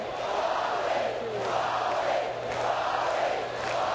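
A college baseball crowd at Alex Box Stadium during an LSU vs Baylor game in 2003 keeps up a steady, swelling roar of cheering from a large, distant audience.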